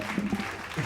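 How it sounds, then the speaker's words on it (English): A studio audience claps briefly in a short burst of applause, with a voice mixed in. "Let's give her a round of applause"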